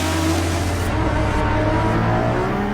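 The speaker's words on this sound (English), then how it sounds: "One of the greatest noises, certainly the loudest noise in this batch, Erin Baker, is the Lamborghini Essenza." Lamborghini Essenza engine roars loudly and continuously as it climbs a narrow uphill road at the Goodwood Festival of Speed, a deep sustained growl with slight shifts in pitch.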